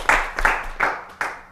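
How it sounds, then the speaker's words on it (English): A few audience members clap at an event, a sparse scattering of distinct hand claps in loose rhythm rather than full applause. "Come on, keep them clapping."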